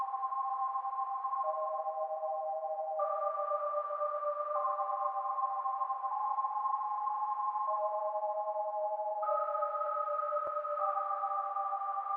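A dark minor melody for a type beat made in FL Studio plays as soft, sustained synth notes that shift slowly in pitch, steady and fairly quiet throughout.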